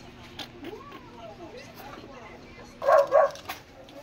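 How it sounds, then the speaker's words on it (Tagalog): A dog barks twice in quick succession at moderate distance in a home setting, standing out over low background murmur and voices. "Ingay ng aso."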